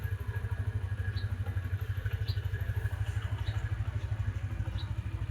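A TVS Metro Plus motorcycle engine runs steadily at idle, a loud, continuous low throb with a faint rattle and a few light clicks over it.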